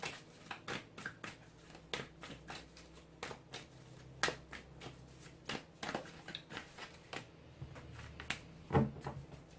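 Tarot cards are drawn and laid out for a reading, giving a run of soft, close slaps, flicks and shuffling rustles in uneven bursts over a quiet room.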